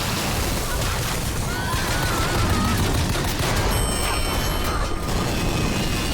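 Loud, dense gunfire fills the BioShock Infinite video game, with sustained bursts and mechanical clatter blending with other game sounds, while a voice is heard briefly.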